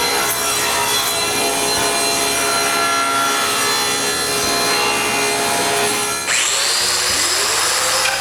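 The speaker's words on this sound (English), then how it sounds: "So I rip some plywood at 45 degrees." A saw rips through plywood at a 45-degree angle in a woodworking shop, a steady loud continuous cutting whine with rough grinding texture, winding down near the end.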